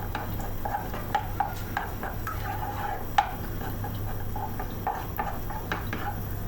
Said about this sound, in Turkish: Salçayla güzelce şöyle bir karıştıracağım